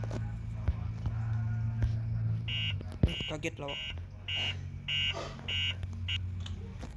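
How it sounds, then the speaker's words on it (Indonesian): A telephone in a hospital rings with pulsed, buzzy electronic tones repeating in short bursts over a steady hum, while people talk nearby. "Kadang-kadang suara dering teleponnya ada dari teleponnya sendiri dan ada dari itu kuning-kuning itu"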